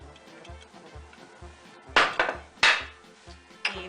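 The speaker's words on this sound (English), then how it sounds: "in a large separate bowl, you want to stir together all the dry ingredients" Dry ingredients for Lebkuchen, including flour, baking soda, cinnamon and allspice, are stirred together in a large bowl, giving a few sharp close knocks and scrapes against the bowl over a soft rhythmic background thump.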